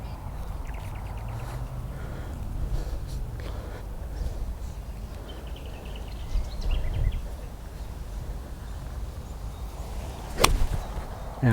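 A single crisp, sharp crack of a 5-iron striking a golf ball rings out late, standing alone above faint outdoor ambience with occasional distant bird chirps.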